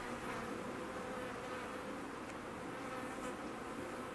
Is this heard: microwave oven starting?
no